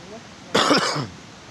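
A person nearby gives a single short, rough cough lasting about half a second, outdoors by a roadside, with quiet background before and after.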